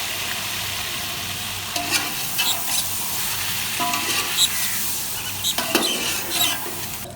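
Onions frying in a pan for chicken biryani, a loud continuous sizzle broken by several scraping, rattling stirs of a spoon against the pan.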